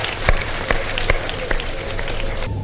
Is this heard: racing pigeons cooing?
no